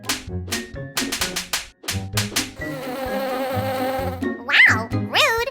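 Cartoonish buzzing bee sound effect for a children's story, a string of short, bright buzzes and zips that come in quick bursts and then form a longer wavering drone, with no speech.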